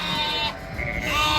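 Sheep and lambs bleat on a busy Irish farm, with overlapping drawn-out bleats from a flock close by filling the short moment, and no talking.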